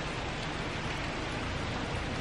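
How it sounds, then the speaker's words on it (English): Rain falls outdoors as a dense, even hiss of broadband noise, steady and fairly faint with no voices over it. "It's actually really nice to see and enjoy the rain."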